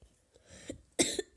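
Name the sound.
coughing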